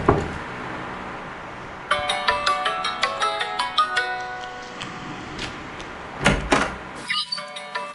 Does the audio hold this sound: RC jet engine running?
no